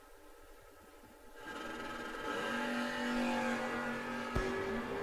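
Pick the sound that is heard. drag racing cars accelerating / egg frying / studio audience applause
drag racing cars accelerating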